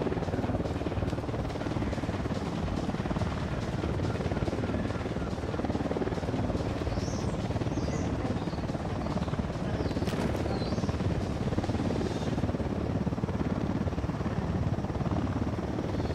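A helicopter flies steadily overhead in Ghost Recon Wildlands, its dense rotor thrum and engine roar constant and loud throughout, with faint voices occasionally underneath.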